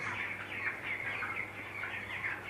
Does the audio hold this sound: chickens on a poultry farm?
yes